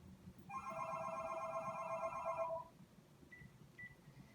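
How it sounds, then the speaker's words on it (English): A telephone rings once in an electronic tone, a steady two-second burst with a warbling edge, fairly close over a quiet indoor room with faint low rumble, then faint short beeps follow. "Oh no, I will not be answering the phone at this time."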